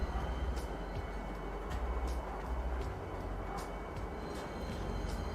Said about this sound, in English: You ever wonder why there's an entire tram for Lorville